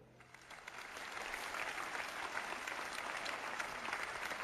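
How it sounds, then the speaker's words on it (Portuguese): Audience applause for Dr. Catherine Hayhoe, starting soft and swelling within a second into full, steady clapping from a sizable crowd that continues to the end. "Eu peço uma salva de palmas para a doutora Catherine Hayhoe"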